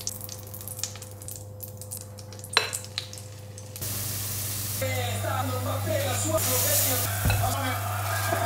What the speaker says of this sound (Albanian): E tani thjesht i hedh në tigan